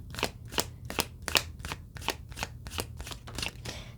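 Tarot cards are shuffled close up in a quick run of about ten crisp, papery riffling flicks at a steady rhythm, with no voices.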